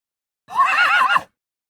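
A single horse whinny, close and clear, rises and wavers through a quavering neigh for under a second before breaking off into silence.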